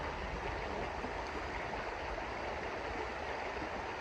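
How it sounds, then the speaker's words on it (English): Small mountain stream on a high trail, cold water rushing and burbling in a steady, full wash of sound close by, with no voices. "It's a nice little stream coming through here."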